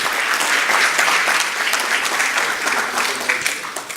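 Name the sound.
applause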